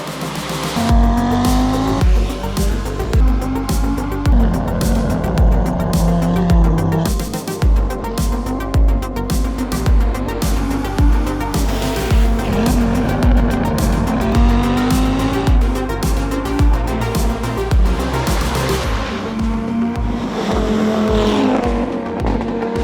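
An Audi quattro rally car is driven hard, its engine revving up and down through rapid gear changes while the tires squeal and skid, loud and close throughout with repeated surges of acceleration.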